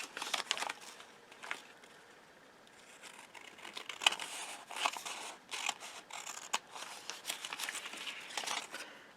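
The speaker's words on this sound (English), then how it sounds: "I'm going to cut away from, and I'm going to cut to the edge" Scissors cut through a sewing pattern, producing a series of crisp, close snips and paper rustles in an irregular rhythm, fairly quiet throughout.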